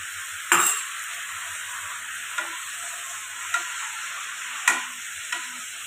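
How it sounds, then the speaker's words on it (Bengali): Tomato puree hits a hot pan and sizzles steadily, with a few sharp spatula scrapes against the pan stirring it through, close and clear with no talking. "আর এখানে যে টমেটো যে পিউরিটা করেছিলাম সেটাও এতে দিয়ে দিলাম।"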